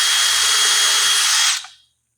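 A handheld power drill whines steadily at high speed while boring holes, close and loud, then spins down and cuts off abruptly after about a second and a half.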